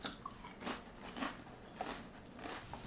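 Crunchy honey butter flavored potato chips bitten and chewed up close, a few crisp crackling crunches spaced out over quiet background, no talking.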